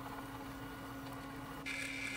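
A dust extraction system driven by a 180 W motor runs with a steady drone and a whooshing airflow hiss, then a higher-pitched whine suddenly brightens the sound near the end, with no voices.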